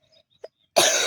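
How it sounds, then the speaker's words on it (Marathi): A young child coughs: a few faint breathy sounds, then a loud, harsh burst of coughing close up that carries on to the end. "काय बा मला खोकलाच लागला ले का हो"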